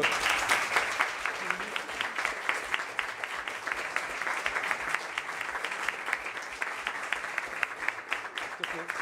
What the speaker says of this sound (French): Corinne, on peut t'applaudir